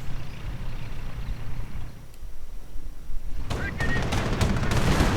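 Rapid gunfire crackles in a real-time strategy game battle as engineers take fire, bursts starting midway and growing dense over steady battle noise, with a commentator speaking throughout.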